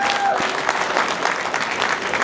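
Wedding guests clap together in a steady, dense burst of applause that stays even and close for the whole stretch.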